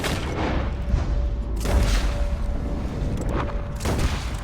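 Gunshots in Red Dead Redemption 2 boom out in a few heavy bursts about two seconds apart, over a rumbling, rocking background din with no talk.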